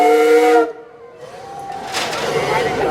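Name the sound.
steam whistle of the Minne-Ha-Ha lake steamboat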